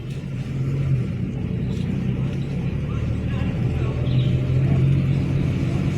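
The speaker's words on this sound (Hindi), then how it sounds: "अब लीजिए सेकंड गियर, दबा के सेकंड गियर, चलते रहिए, बढ़ाइए स्पीड" A learner car accelerates in second gear, its engine a steady low drone that climbs slightly, heard from inside the cabin with faint road rumble and no talk.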